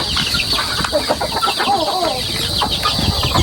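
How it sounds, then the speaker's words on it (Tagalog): Newly hatched chicks and ducklings on a farm peep and cheep in a continuous, busy chorus, close by, with scattered chirps overlapping throughout and farmyard clucking mixed in. "Oh, maraming bagong sisiw."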